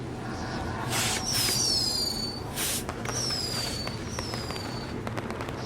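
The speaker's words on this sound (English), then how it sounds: "either way, we'll get to see some cool fireworks" Fireworks going off in the video game WWE 2K20, with whistling rockets rising and several crackling bursts and pops over a low background rumble, a few launches in quick succession.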